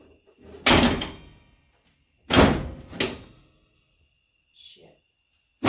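A race car hood with a homemade fabricated latch is slammed shut repeatedly: two loud, sharp slams about a second and a half apart, then a third quicker bang, with quiet handling noises between.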